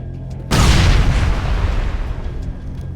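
A loud explosion booms in Mass Effect Legendary Edition, a sudden heavy blast hitting half a second in, then rolling and rumbling as it slowly decays over the next few seconds, with no talk over it.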